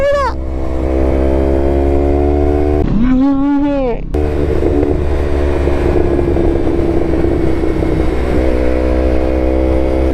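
A Yamaha R3 streetfighter with an M4 full exhaust, its engine droning loud and close at a steady rpm with one brief rising rev in the middle, plus some irregular popping.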